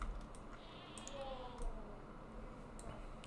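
A Minecraft goat bleats once, soft and brief, under a low steady game ambience with faint clicking, and no speech.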